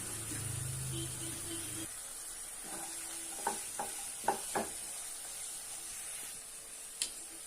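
Soft sizzling of chili powder and turmeric in oil in a pan for egg curry, with a few light clinks and stirring taps, steady and fairly quiet throughout.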